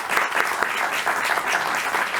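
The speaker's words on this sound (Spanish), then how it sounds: "Un aplauso." Audience applause at a university agreement-signing ceremony in Mexico, a steady dense wash of many hands clapping for a speaker with a doctorate in history, sustained and fairly loud throughout with no talk.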